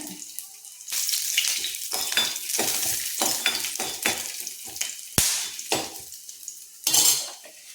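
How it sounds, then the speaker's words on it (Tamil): Black pepper and garlic cloves fry in sesame oil in a pan, a soft sizzle punctuated by scraping and clinking stirring strokes, close up with no talking. "நல்லெண்ணெய் கொஞ்சம் சேர்த்துருக்கேன் ஒரு அஞ்சாறு மிளகு சேர்த்துக்கிறேன் பூண்டு ஒரு அஞ்சு பல் சேர்த்துருக்கேன்"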